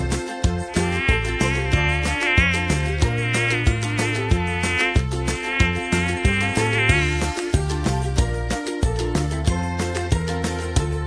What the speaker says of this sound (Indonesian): Lalat.